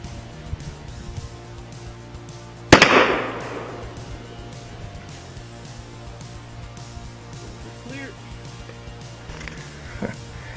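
A single SKS rifle shot, a 123-grain soft point round fired into a cast iron engine block, cracks out once sharply near the three-second mark and rings away into a quiet outdoor background with faint small noises afterward.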